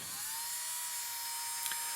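A drill spinning a DeWalt number 6 bit with a manufacturing defect, giving a steady, high-pitched whine and buzz that holds constant throughout at moderate level, with no talk.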